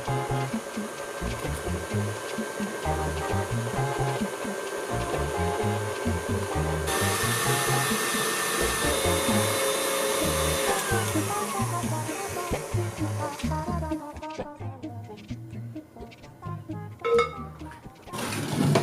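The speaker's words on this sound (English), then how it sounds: "Now mix the icing until it's smooth." Electric mixer whipping vegan cream cheese icing made with powdered sugar, vanilla extract and coconut milk, a steady motor whine that shifts in pitch partway through, then tapers into clinks and knocks near the end.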